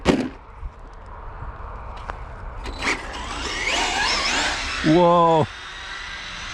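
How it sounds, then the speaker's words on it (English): A Kyosho Toyota Tacoma RC truck runs a speed test, its electric motor whirring in a rising rush with short bursts and a sharp whine near the end, while a voice exclaims over it. "Time to speed test the Toyota."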